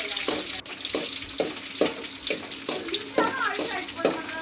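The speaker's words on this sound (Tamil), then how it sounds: "ஒரு கைப்பிடி கடலைப்பருப்பு போட்டு காஞ்ச மிளகாய் பூண்டு போட்டு நல்லா ப்ரௌனாக வறுத்துக்கிறேன்" Chana dal with dried red chillies and garlic roasting in a pan, loud crackling sizzle broken by rhythmic stirring scrapes every half second or so, close up.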